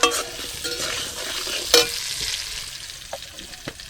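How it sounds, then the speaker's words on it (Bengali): Potatoes fry in a pan for aloo dum, with a soft sizzle underneath and several sharp scraping stirs of the spatula at irregular moments, close by and without talk. "আলুটাকে একটু লাল লাল করে ভাজছি।"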